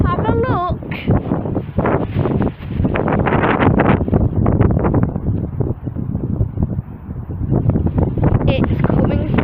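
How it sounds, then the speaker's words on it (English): Strong wind buffets the microphone outdoors near train tracks, a loud continuous roar and rumble with gusting pulses, with voices speaking briefly over it. "Oh, it's really windy."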